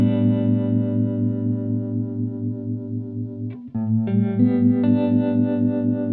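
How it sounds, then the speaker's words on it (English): Electric guitar played through a Strymon Flint pedal's harmonic tremolo, held chords pulsing with alternating low and high emphasis, the notes sustaining closely before a new chord is struck and rings on. "There we hear the more exaggerated alternating frequency bands of the harmonic tremolo."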